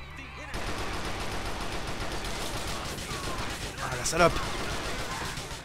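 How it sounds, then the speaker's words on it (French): Shotgun blasts and gunfire in the video game GTA 4 during an online match, a loud burst standing out near the end over continuous game noise, with a voice reacting briefly. "il a un fusil à pompe"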